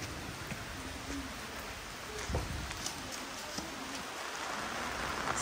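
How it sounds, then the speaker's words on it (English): Steady rain patters on surfaces as a constant hiss in St. Vincent and the Grenadines, with a few faint knocks and distant chirps in the background. "It's raining"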